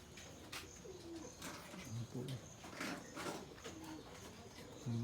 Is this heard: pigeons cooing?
yes